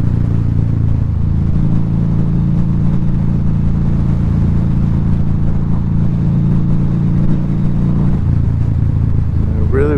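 A 2012 Harley-Davidson V-Rod Muscle motorcycle engine runs loud and steady with a deep rumble, rising in revs around the second mark and easing off near the end, with wind noise throughout.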